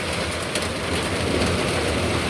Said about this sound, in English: hail coming down.